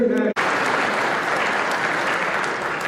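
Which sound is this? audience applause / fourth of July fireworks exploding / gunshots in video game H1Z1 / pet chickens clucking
audience applause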